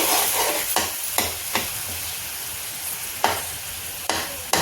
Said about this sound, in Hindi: इसको हम फ्राई करेंगे, मतलब घी में पकाएंगे